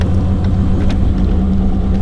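A 1993 Chevy Camaro Z28, fitted with new cross-drilled and slotted brake rotors, rumbles deep and steady close by as it pulls away down a driveway.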